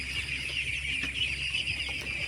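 Ducks mill around on a duck farm, giving soft, low clucking calls beneath a constant high ambient hum, the flock close but quiet.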